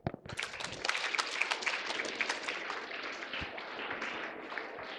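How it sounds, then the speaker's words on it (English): Students at an adolescent self-esteem counselling session clap for a classmate, a burst of group clapping that starts abruptly and continues fairly loud, with a few scattered claps trailing off. "Clap for her."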